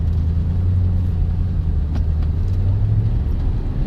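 Audi R8 supercar pulling away in first gear in automatic mode, a steady low engine rumble with a rising drone, heard from inside the cabin and fairly loud throughout.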